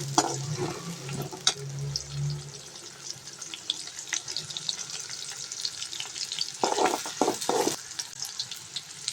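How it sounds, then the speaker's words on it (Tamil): Onions with curry leaves fry in a pan for an okra stir-fry. A continuous, watery sizzle is broken by louder bursts of stirring near the end. "இப்போ இது கூட கொஞ்சம் வெங்காயம் போட்டுக்கலாம் வெங்காயத்தை நல்லா இதில் போட்டுக்கலாம்"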